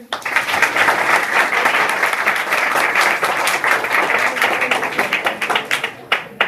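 Students in a Class 10 and 12 classroom at an inter college in Azampur, Uttar Pradesh, clap together in a loud, crisp burst of many hands that runs for several seconds, then thins into a few scattered claps at the end.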